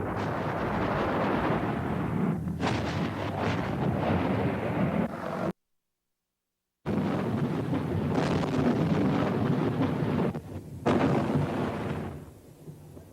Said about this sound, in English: as the artillery sought out PLO positions and lines of communication